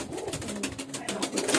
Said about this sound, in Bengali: এখানে রয়েছে এগুলো সব ধাড়ি পায়রা।